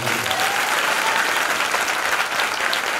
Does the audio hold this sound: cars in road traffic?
no